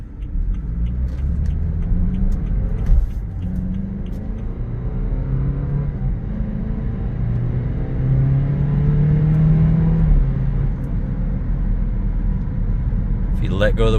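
A 2013 BMW 328i xDrive is driven on the road with a steady cabin rumble, as the engine note rises and drops through smooth gear changes. A person talks over the drive throughout.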